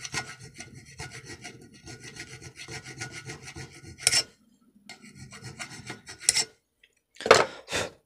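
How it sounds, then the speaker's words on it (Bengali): Sandpaper or a file rubbed back and forth to smooth a piece, a close, steady rasping scrape in repeated strokes with brief pauses and a couple of sharper scuffs near the end. "কাগজ দিয়ে বা উকো দিয়ে যা দিয়ে হোক এটা আমরা সুন্দরভাবে ঘষে নেব।"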